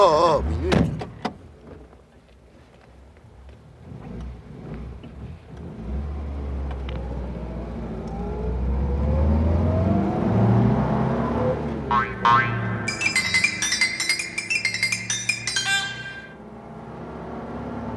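Car door shutting with a sharp thump, then the engine starting and the car pulling away with a rising motor whine, followed by a burst of bright music.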